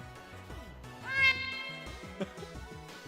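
Short synthesized cat meow from the video game Pokemon Black, a bright rising cry over looping chiptune game music with a small blip after it.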